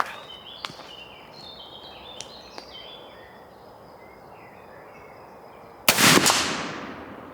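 A Colt Army 1860 revolver fires one sharp, loud shot that rings out and decays, preceded by a few faint clicks in a quiet outdoor setting.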